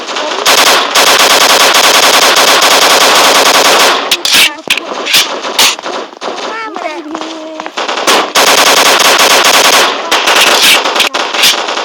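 Dense, rapid automatic gunfire from the mobile shooter game Block Strike rattles loudly in sustained bursts, with a short lull midway before the shooting resumes at full intensity.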